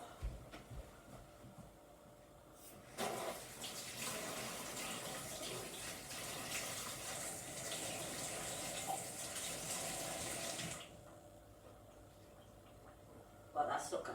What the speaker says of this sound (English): now I'm just gonna rinse this off